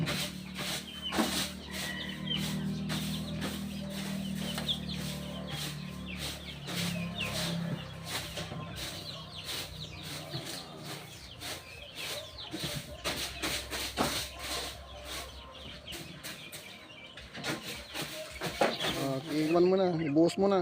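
A batch of chicks clucks and chirps steadily in the background while people talk nearby, with occasional rustling and clatter.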